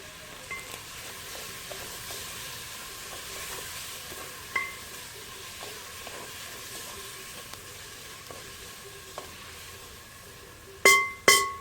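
Mushrooms sauteing in a dutch oven outdoors give a steady, gentle sizzle throughout, with occasional light clinks and scrapes of stirring and a couple of sharper metallic knocks near the end; no talking.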